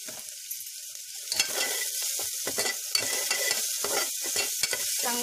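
Jeera rice seasoning of browned onion, coriander and salt is stirred in a pan, with a steady close sizzle of frying and repeated scraping strokes of the spoon, and no talking.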